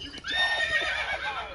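A horse in the Minecraft video game neighs once, a bright whinny with a wavering pitch that rises and falls for over a second, loud and close with nothing else around it.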